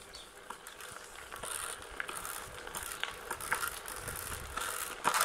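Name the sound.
pebbles hitting electric skateboard mudguard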